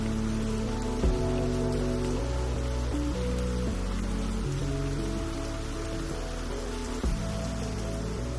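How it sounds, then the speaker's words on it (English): Steady rain falls outside an open garage, a continuous soft patter and hiss that runs unbroken through the whole stretch, with sustained tonal music underneath. "You probably could see and actually hear the rain that finally got to our neck of the woods"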